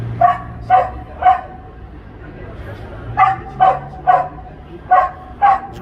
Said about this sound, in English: He's got some good lungs on him, that doggy.